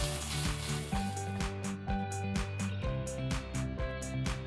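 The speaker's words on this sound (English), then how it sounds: "add half a cup of grated coconut. Fry for a few seconds and switch off the stove." Grated coconut fries briefly in a pan alongside carrot curry, giving a steady close sizzle with rhythmic scraping or stirring strokes roughly every half second and no talking.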